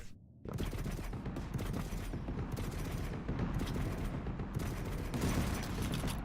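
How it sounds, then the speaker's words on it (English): Video game gunfire, rounds shot through a metal object, heard as dense rapid bursts of automatic fire that start abruptly after a brief quiet and run in loud clustered volleys with short gaps. "you can shoot through that metal thing"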